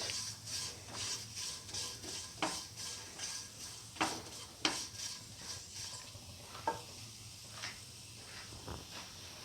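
Soy chunk noodles being stirred and tossed in a pan, a steady soft scraping with sharper clinks of the utensil against the pan at irregular intervals, close and moderately quiet.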